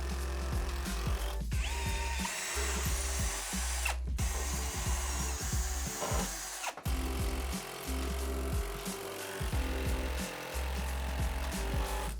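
A power drill drives TV wall-mount brackets into wall studs while a 97-inch wireless OLED TV is being hung. Its loud, close motor whine runs steadily with brief stops near the start and middle, and nobody speaks.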